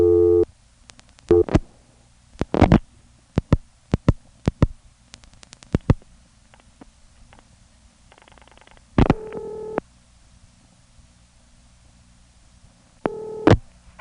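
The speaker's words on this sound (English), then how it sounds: "I'll dial 451-1117 fairly quickly" Dialing on an NX1 telephone exchange in Jacksonville, North Carolina, in 1977: a quick series of sharp tone bursts and clicks in separate groups, with brief steady tones and hum between them, close and clear, no talking.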